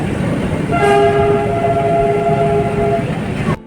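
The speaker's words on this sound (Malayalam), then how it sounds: "യുനെസ്കോയുടെ ലോക പൈതൃക പട്ടികയിൽ ഇടം പിടിച്ചിട്ടുള്ള മലയോര തീവണ്ടിയായ നീലഗിരി മൗണ്ടൻ ട്രെയിൻ" Nilgiri Mountain Railway hill train, loud and near: a sustained horn blast over the rumble and rattle of the moving train.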